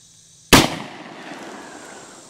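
A single sharp, loud .357 Magnum gunshot from a Ruger GP100 revolver with a 4-inch barrel firing 158 grain Norma ammunition during a body armor test, followed by a decaying ringing tail.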